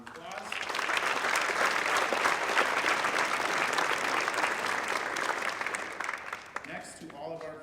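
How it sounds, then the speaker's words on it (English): A scholarship awards night audience gives a sustained round of applause, dense and steady for several seconds, then tapering off as a few last claps and voices remain. "I'd like to give them a round of applause"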